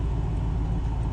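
A Shelby Cobra sports car cruises with a steady, low engine drone and constant road rumble, heard alone and close.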